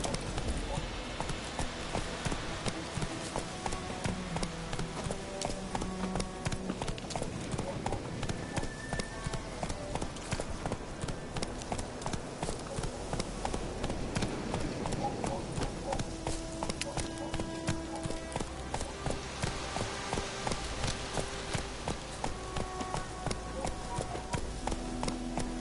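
Geralt's horse Roach galloping in The Witcher 3, with steady rhythmic hoofbeats drumming throughout under game music and ambience while a person speaks over it.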